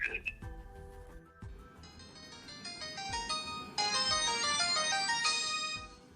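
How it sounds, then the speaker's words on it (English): A pay-as-you-go mobile phone rings with a loud, bright electronic melody of repeated tones that grows fuller as it plays, close and alone. "just got woken up by my pay-as-you-go phone ringing"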